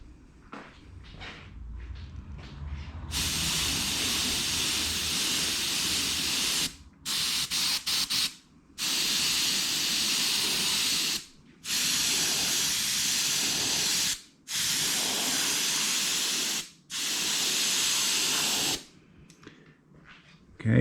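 Aerosol spray paint hisses onto a custom Harley 48 fuel tank in a series of long bursts, each several seconds long with brief silent gaps between, loud and close.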